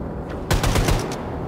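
Rapid-fire gunshots in Wolfenstein 2: The New Colossus, a fast burst of about six loud, evenly spaced shots over a constant game background.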